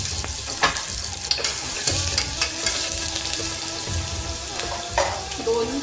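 Ginger-garlic paste sizzles and spatters in hot oil in a pan for a spicy mutton curry, a loud steady frying hiss with occasional stirring clinks and scrapes.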